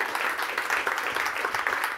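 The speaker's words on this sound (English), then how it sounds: "Round of applause, please." An audience at a biomedical AI talk applauds after a presentation, a dense, even crackle of many hands clapping together at moderate loudness throughout, with no voices over it.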